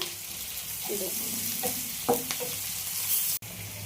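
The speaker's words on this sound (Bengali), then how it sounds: "পেঁয়াজ কুচি, পেঁয়াজটা লাল লাল মতন ভাজা হয়ে গেছে" Chopped onions frying with ginger and garlic paste sizzle steadily while a utensil stirs and scrapes a few times. The sound cuts off abruptly near the end, and no one speaks.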